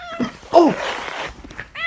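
Mother cat turns on a man filming her kittens to guard them, giving a close, loud snarling yowl with a brief hiss and growl, then a rising meow near the end.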